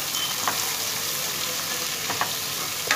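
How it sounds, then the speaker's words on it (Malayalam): Chopped onion, green chilli, ginger and curry leaves sautéing in a pan for hotel-style upma, a steady close sizzle with a few soft scrapes of stirring. "ചെറുതായിട്ട് അരിഞ്ഞ സവാള, പച്ചമുളക്, ഇഞ്ചി, കറിവേപ്പില നന്നായിട്ടൊന്ന് വഴറ്റി കൊടുക്കാം"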